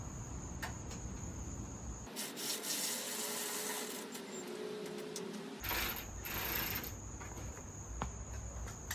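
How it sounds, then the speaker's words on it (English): Screws being driven tight on metal hardtop gazebo panels: a steady close rasping, ratcheting whir in bursts, pausing briefly in the middle, over a faint high insect-like drone. "Now the last step is gonna be to tighten all 8 of the screws around here."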